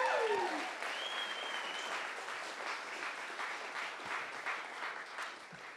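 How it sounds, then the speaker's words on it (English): Wedding guests break into a round of applause, a dense sustained wash of clapping from a sizeable crowd that tapers slightly toward the end, with a brief whistle near the start. "let's go ahead and give Nicolette a quick round of applause for all the hard work she's put into this night."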